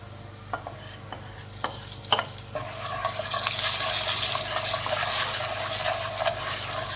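Salt, red chili and turmeric hit hot oil in a pan for a moringa pickle. A few spoon taps come first, then a loud, steady sizzle swells and holds close by with no talking.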